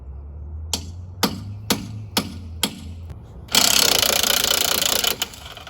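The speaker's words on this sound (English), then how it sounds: "start hitting on it with your impact gun" An impact gun hammers on a stuck nut of a neglected 1981 square body truck, five sharp separate knocks over a low steady hum, then a loud continuous rattling burst, with no talk.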